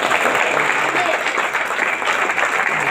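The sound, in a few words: church congregation applause for the Lord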